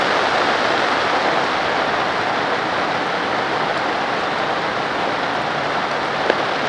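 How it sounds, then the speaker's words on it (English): Dirty water pours continuously into the dirty side of a two-sided filter bag, a steady broad rushing splash that stays even and close from start to finish. "Put your dirty water in there."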